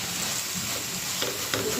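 Fish and bottle gourd sautéing in a pan with no added water, a soft steady sizzle with a couple of brief stirring scrapes near the end.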